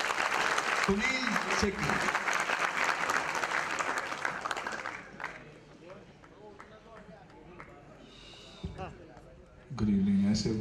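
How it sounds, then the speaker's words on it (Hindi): Loud crowd applause greets actor Sunil Shetty at the Dr Shyama Prasad Mukherjee Award ceremony, with dense clapping for about five seconds before it fades out and someone speaks into a microphone. "एक बार जोरदार तालियों से उनका स्वागत करें"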